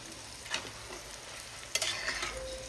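Paneer pulao rice being stirred in a pot, with a few soft scraping strokes and a faint sizzle over a quiet background, no talking.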